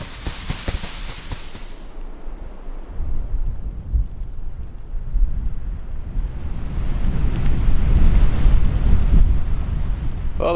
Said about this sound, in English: Well, that was a pretty good blasting.